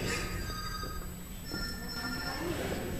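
A cell phone rings during a wedding homily in a church, its electronic ringtone tones sounding steadily over a dense, reverberant room background, with faint voices underneath.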